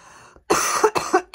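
Several harsh chesty coughs in quick succession from a person recovering from a chest infection, close and fairly quiet, after a brief soft breath.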